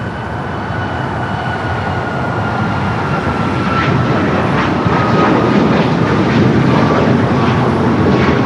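A Royal Air Maroc airliner departing Los Angeles airport, its jet engines producing a loud, steady roaring rumble that builds gradually over several seconds with no voices.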